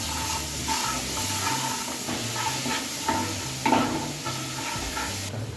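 Garlic paste stirred into red-browned fried onions in a home pan, a soft continuous sizzle with faint scraping and stirring clatter near the mic.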